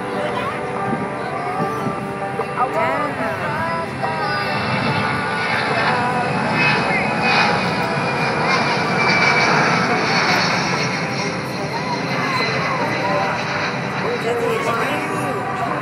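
Steady, loud roar of an aircraft engine taking off at the Lackland AFB air show, a continuous broadband rumble close by, with people talking under the noise.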